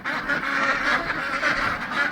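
A crowd of ducks and geese shelters inside a farm building in winter, quacking and honking continuously at close range with overlapping calls.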